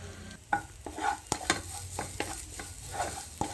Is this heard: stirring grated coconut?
yes